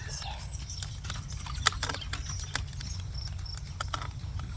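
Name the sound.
horse hooves clip-clopping, pulling a wagon down the street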